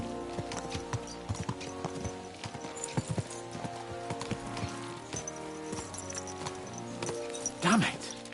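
Horse hooves clip-clop in a quick, steady rhythm while riding in Kingdom Come Deliverance 2, loud and close, with a horse snort or whinny near the end.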